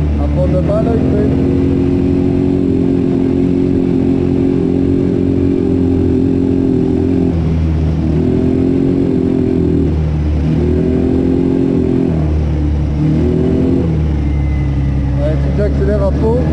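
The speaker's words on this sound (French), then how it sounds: "J'accélère à fond, il fait un trou." A worn quad bike engine that burns oil is held at full throttle, a loud steady drone that stumbles and dips several times as it sputters, then picks back up.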